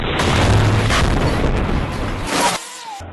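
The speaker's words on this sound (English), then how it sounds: "the tank is going over a mine or an IED" A tank driving over a mine or IED in Gaza sets off a heavy, booming explosion with a rumbling burst that lasts a couple of seconds and then cuts off abruptly.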